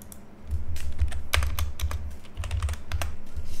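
Quick bursts of keystrokes clatter on a computer keyboard while naming a layer group in rendering software, the clicks close and irregular with brief pauses between runs, no voices.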